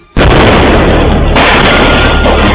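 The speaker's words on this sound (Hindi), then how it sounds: "वीडियो जारी किया उसमें एक इमारत में बेतहाशा धमाके होते सुनाई दिए।" Dense, continuous blasting and roaring explosions of rockets striking a military building, loud and sustained for over two seconds after an abrupt start, with no clear gaps between bursts.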